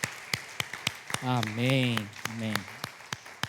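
A church congregation claps for Jesus, sharp rhythmic hand claps landing in a steady beat, close and loud, while a voice speaks over the clapping in the middle.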